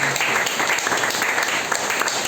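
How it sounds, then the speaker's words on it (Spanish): A church congregation claps loudly and continuously during a sermon, a dense steady patter of many hands with no pauses. "Démosle una fuerte ofrenda de aplauso al Rey de Reyes y Señor de Señores."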